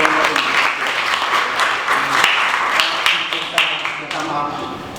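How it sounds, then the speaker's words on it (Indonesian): Audience applause breaks out during a university-style presentation session on making biodegradable plastic from shrimp shells, a broad sustained clapping wash heard close with a voice speaking over it. "sekali lagi aplaus untuk"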